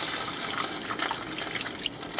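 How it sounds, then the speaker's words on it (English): Chicken broth poured into a simmering pan of water with onions, a soft, steady liquid splash and trickle at modest volume, with no talking. "And then I'm gonna pour some, chicken broth."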